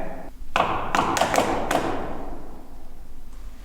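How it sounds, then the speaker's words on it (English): Several sharp knocks ring out in a quick irregular cluster down a hallway of a haunted prison, echoing and fading into a quiet, hollow room tone, with one fainter tap near the end. "There was a knock over there, down the hall."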